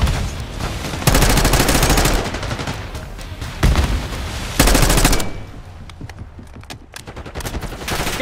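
Gunfire in Call of Duty Black Ops 6 multiplayer, loud rapid automatic bursts in two long stretches separated by shorter shots, with quieter rattling fire trailing afterward.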